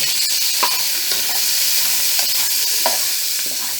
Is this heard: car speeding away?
no